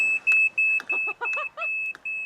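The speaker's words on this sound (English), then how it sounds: "He's adapted a smoke detector to sound the alarm." Smoke detector alarm driven by a wave-powered magnet generator, sounding a steady, shrill, high-pitched tone with a quick series of pulsing chirps over it. Loud and close throughout.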